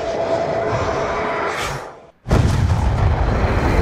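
Missile explosions in the Call of Duty: Black Ops 2 video game come as a loud, dense roar that fades to near silence, then a heavy booming blast erupts and keeps rumbling.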